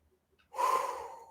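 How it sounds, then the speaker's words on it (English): A single deep, audible inhale during guided meditation, close and breathy, starting abruptly after near silence and holding for under a second. "And I always go into this breathing before we start."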